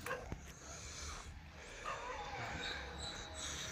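A dog gives a mix of yips, whimpers and a bark close by, over a steady background of outdoor noise, with people talking now and then.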